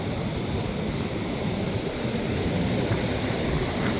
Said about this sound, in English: We got some rough waves coming in here.